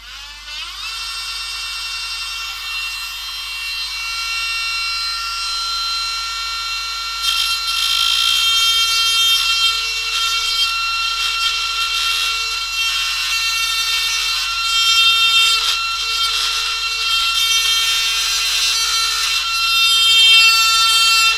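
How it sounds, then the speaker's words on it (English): A Dremel rotary tool cuts into an Acer E5-571 laptop with a loud, steady high-pitched whine that grows harsher and more ragged as the bit bites into the casing, continuing unbroken for over twenty seconds. "I'm going in with the Dremel, the flathead screwdriver did not work"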